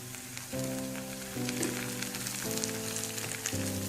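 Steady crackling sizzle of cashew nuts frying in hot ghee, close and continuous, with a low hum underneath and no talking.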